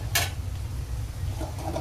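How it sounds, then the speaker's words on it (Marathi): A spoon scrapes and clinks in a pan as masala with red chili powder is stirred and sautéed for rajma, one sharp metallic knock at the start over a soft continuous sizzle, no voices. "असं छान परतून घ्यायचं आहे मसाला"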